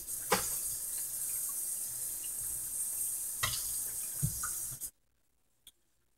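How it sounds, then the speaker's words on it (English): Water pours steadily from a tap into a cooking pot holding rice and tomato sauce, a continuous splashing rush broken by a couple of clunks before it stops abruptly, leaving near silence with one faint knock. "we're going to add in some water"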